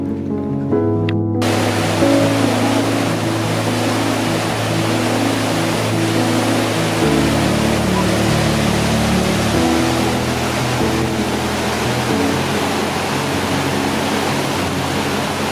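A river waterfall pours over a cliff in western Iceland in a steady, loud roar of rushing water, a constant broadband wash that barely changes from start to finish.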